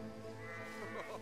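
Sheep bleat in the World War I video game Valiant Hearts: The Great War, a few wavering overlapping cries over a faint background, with a quiet voice murmuring underneath.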